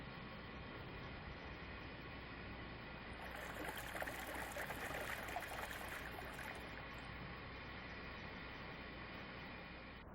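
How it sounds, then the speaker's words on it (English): A Boeing 737 waste tank drains through its opened outer drain valve and hose, giving a steady, close rushing flow that swells a little midway and continues evenly throughout, with no one speaking. "pull the drain valve handle and allow the waste to drain"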